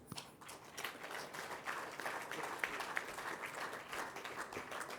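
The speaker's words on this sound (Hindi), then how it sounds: "अपने पूर्णानंदियों जैसे तो नहीं है कहीं पर भी जो इतनी तालियां बजाते हैं" Audience clapping at a satsang, a soft, dense patter of many hands applauding steadily throughout, faint and somewhat distant.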